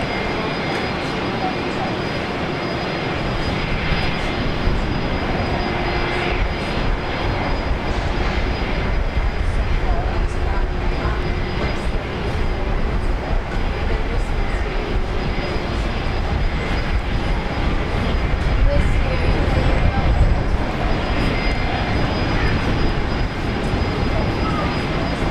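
Airliner jet engines rumble as planes taxi at Brisbane Airport, a continuous broad roar that swells slightly over time, heard from a moderate distance outdoors with occasional talk mixed in.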